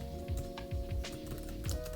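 Typing on a backlit keyboard case for an iPad Mini 5: soft, quick clusters of key clicks in an irregular rhythm, faint and close, over a low steady hum.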